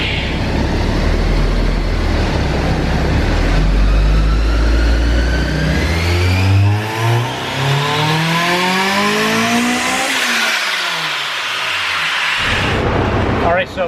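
A Honda S2000's engine revs hard during a tuning run, a loud close roar that climbs steadily in pitch for about ten seconds, then drops away and briefly rises again.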